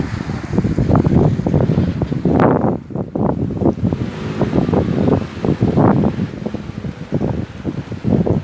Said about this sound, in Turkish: Suyun sesi, dalgası gerçekten çok güzel